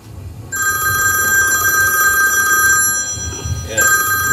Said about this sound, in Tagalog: Nagre-ring pa yung phone mo.